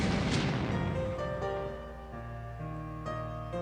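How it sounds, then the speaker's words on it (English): A big explosion in the Dies Irae visual novel bursts loud at the start, then decays into a ringing, tonal rumble that holds steady and sustained to the end with no voices. "The crimson hell of Muspel's time ended with an explosion that greedily devoured Kay."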